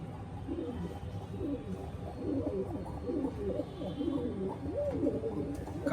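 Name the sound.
Pakistani Teddy pigeons cooing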